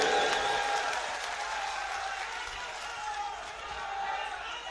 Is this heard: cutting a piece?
no